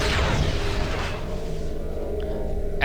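Gorn plasma torpedoes fire in a space combat video game with a loud, broad rushing roar that peaks at the start, then thins and fades over about three seconds. A brief crackle comes near the end, and no one speaks.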